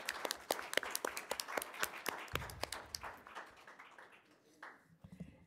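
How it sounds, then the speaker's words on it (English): A burst of rapid clapping from a group at a governing board meeting, loud at first then thinning out and fading toward the end. "So let's all give her a round of applause."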